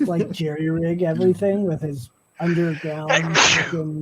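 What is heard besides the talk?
sneeze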